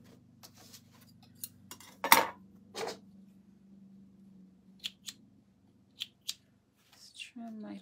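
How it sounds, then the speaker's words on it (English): Scissors trim loose threads on a freshly sewn drawstring backpack, a handful of crisp close snips and clicks spaced irregularly in a quiet room over a low hum. "Just trim my threads up here."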